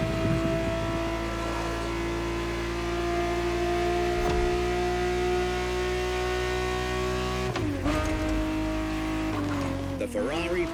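Ferrari 365 GTB4 racing engine in The Crew Motorfest video game, a steady loud drone that holds a constant pitch for several seconds, then shifts and rises sharply toward the end as the car revs harder.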